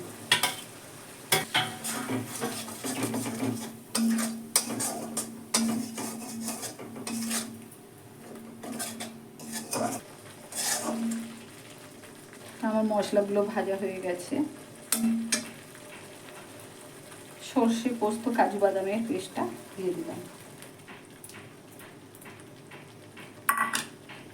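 Ginger, garlic and ground spices fry in a pan for an eggplant dish, with loud, close metal spoon scrapes and clatters in irregular bursts over a soft background sizzle, no voices.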